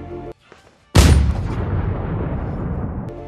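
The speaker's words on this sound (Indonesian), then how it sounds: "Sebuah tembakan dari Taylor tepat mengenai jantung Hall." A single loud, close gunshot in the film KIN cracks out after a brief hush, followed by a long rumbling boom and lingering reverberation.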